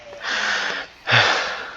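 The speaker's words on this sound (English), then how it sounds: "Hopefully you don't hear my dog snoring in the background." A dog snores in its sleep somewhere in the room, two long breathy rasping pulls with a short pause between, the second louder and throatier.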